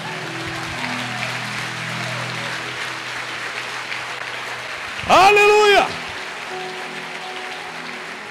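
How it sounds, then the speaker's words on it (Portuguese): A church congregation applauds steadily and fairly loudly throughout, a hiss-like wash of clapping, while a voice speaks and then shouts an exclamation over it near the end. "quem ama o Senhor, aplauda Ele com toda a força"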